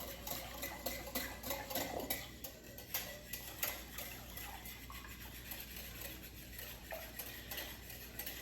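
Egg and milk for Puerto Rican coquito are whisked in a bowl, giving a quick rhythmic ticking and swishing close by that runs steadily for several seconds.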